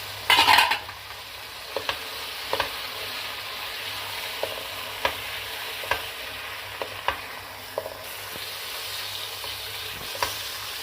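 Green chillies and minced keema fry in a pan with a steady, soft sizzle, punctuated every second or so by the light clicks of a spoon stirring. No one speaks.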